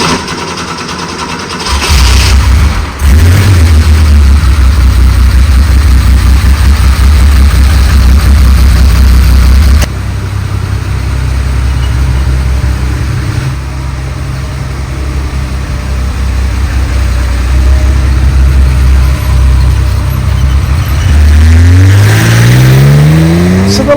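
A 40-year-old rally-built Porsche with a 3.5 litre engine cranks and fires, then runs at a loud, steady idle with short revs close by, rising in pitch as it pulls away near the end.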